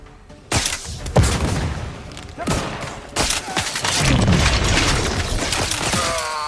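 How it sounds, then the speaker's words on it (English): A grenade goes off in The Outer Worlds 2 amid a gunfight, loud sharp bangs and thumps close by, with a rattle of gunfire and clanking debris around them. "that grenade just hit me in the face"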